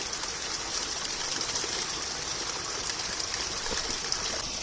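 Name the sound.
water seeping through a wall and running into a channel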